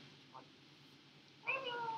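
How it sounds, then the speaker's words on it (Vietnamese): A cat meows twice: first a faint, short mew, then a louder, drawn-out meow near the end, against quiet room hiss. "Mèo mèo."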